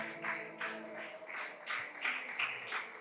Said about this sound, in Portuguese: pode louvar o Senhor com as palmas